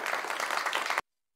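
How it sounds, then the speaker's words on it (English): A cartoon classroom bursts into cheering and clapping for a student, a loud dense wash of applause lasting about a second before cutting off abruptly to silence. "The classroom erupted with cheers as everyone clapped for Peavy's excellent counting."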